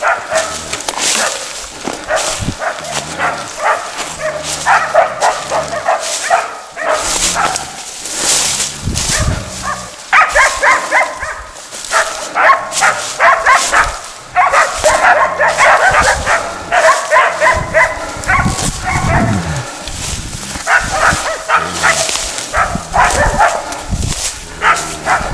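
Several hunting dogs bark, yip and whimper in rapid, continuous bursts at close range outdoors at an old log hut after a bear hunt, with occasional voices in the background.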